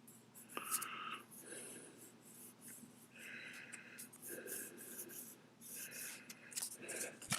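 A pen scratches a line onto a business card in short, faint strokes, several quiet scribbling bursts close by with soft rubbing between them.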